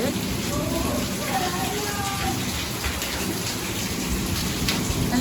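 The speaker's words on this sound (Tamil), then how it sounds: "எவ்வளோ மழை பாரு, பேப்பர்லாம் பறந்து போகுதுடாங்க." Heavy rain pours steadily and loudly on a house with an open door, a dense unbroken roar with faint rumbles of thunder mixed in, and no voices heard.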